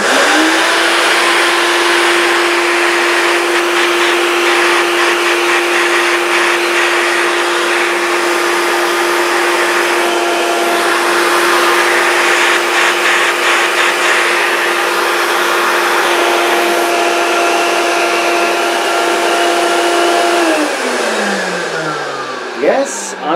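Vintage 1970s Hoover S3001 Celebrity Custom vacuum cleaner runs loudly up close with a steady motor whine and airy roar for about twenty seconds, then winds down with a falling pitch.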